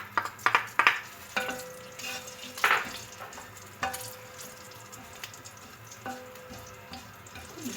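Cumin seeds frying in about four tablespoons of oil in a kadai, a soft steady sizzle under scattered clinks and scrapes of a stirring spoon against the metal pan.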